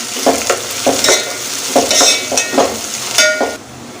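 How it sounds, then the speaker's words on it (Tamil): Cinnamon, cloves and green chilli sauté in a pan for a mutton and field-bean curry, stirred with repeated rhythmic scraping strokes over a soft sizzle, close and fairly loud, with no talking. "இது கூடவே பட்டை கிராம்பை சேர்த்துக்குவோம் அதுக்கப்புறம் பச்சை மிளகாயும் சேர்த்துட்டு இது எல்லாத்தையுமே ஒரு ரெண்டு நிமிஷத்துக்கு நல்லா வதக்கி எடுத்துக்கலாம்"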